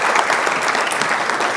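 A brief burst of dense, sustained applause from a forum audience welcoming the Tunisian Prime Minister, steady and fairly loud.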